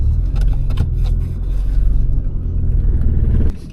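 A cheap old Subaru with suspected engine trouble drives along on a road test, its low engine rumble steady and close from inside the cabin, with faint rattles before the sound drops off near the end.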